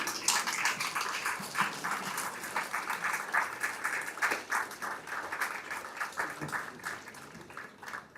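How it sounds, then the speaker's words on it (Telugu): A standing ovation from an audience at a resort event as a guest is welcomed, with sustained, loud, dense clapping that runs throughout with steady intensity. "can I ask everyone to right and then give a standing ovation"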